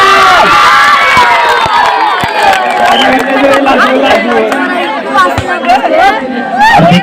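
Spectators at the final of a volleyball tournament clap and cheer loudly in a dense, continuous roar, with sharp claps and shouts rising through the crowd noise.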